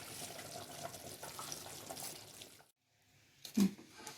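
Soaked rice tipped into a pot of boiling water for Dindigul Thalappakatti-style mutton biryani, a steady rushing, bubbling pour that stops abruptly, then a brief splash and clunk close by, with no talking.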